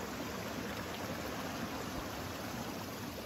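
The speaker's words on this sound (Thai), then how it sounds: "มีทางน้ำไหล" Water running along a small stream channel, a steady close hiss of flow that holds evenly throughout with no talk.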